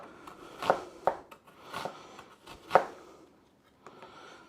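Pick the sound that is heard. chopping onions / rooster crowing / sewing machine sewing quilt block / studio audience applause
chopping onions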